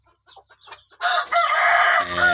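A rooster crows loudly and close by in one long call, followed by a few low clucks; faint soft sounds come just before it.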